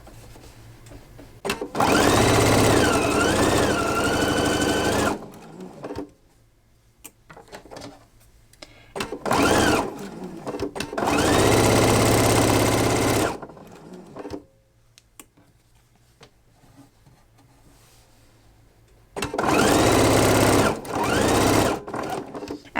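Sewing machine stitching quilt pieces, three long loud bursts of rapid whirring separated by quiet pauses and short shuffles.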